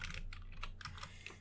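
Rapid keystrokes on a computer keyboard, typing a web address, in a quick irregular burst of clicks lasting over a second, close and clear, with no talking.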